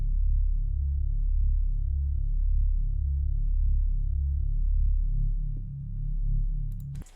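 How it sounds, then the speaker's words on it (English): A Serum sub bass using the bass wave preset, following a loop's root notes: deep, steady low tones shift pitch every second or so and sustain throughout, with a brief click at the very end. "This is the bass wave preset from the Adapt Serum bank"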